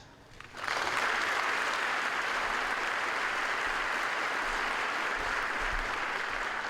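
An audience at a new student convocation bursts into sustained applause after a quiet start, steady and broad, continuing for several seconds with no speech over it.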